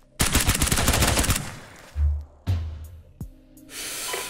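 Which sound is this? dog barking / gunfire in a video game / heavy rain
gunfire in a video game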